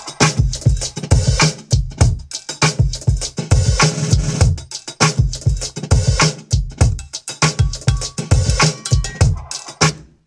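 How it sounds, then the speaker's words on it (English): A punchy, funky drum loop repeats with tight kick and snare hits and crisp hi-hats in a steady groove, loud and upfront with no talking. "So altogether, the drum loop sounds like this."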